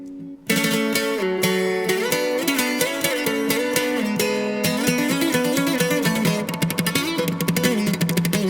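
A sierreño guitar mix for corridos tumbados with all send effects applied: layered, busy strummed and picked guitar lines starting abruptly after a brief quiet moment, loud and continuous throughout.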